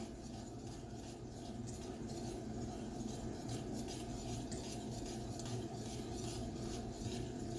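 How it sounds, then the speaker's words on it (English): Steady raspy scraping of a whisk against a bowl as banana pudding mixture is slowly stirred in, continuous and close throughout with no pauses. "I'm going to whisk this in just a little at a time, real slow like"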